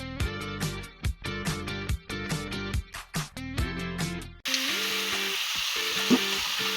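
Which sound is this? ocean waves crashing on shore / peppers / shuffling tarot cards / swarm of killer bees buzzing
peppers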